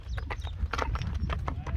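Hooves of a five-to-six-year-old European and Kyrgyz crossbred horse clip-clop in a steady, close run of sharp strikes over a constant low rumble.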